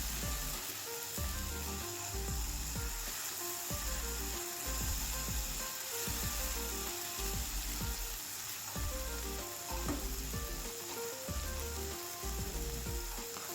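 Oil sizzles steadily in a pan as ginger and lemongrass are sautéed, a continuous close crackle with occasional stirring clatter and no talk.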